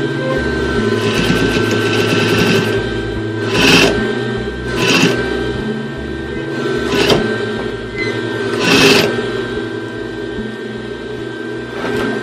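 Sewing machine stitching fabric for a lampshade slipcover, a steady close mechanical hum broken by a few louder brief clattering surges, running without any talk.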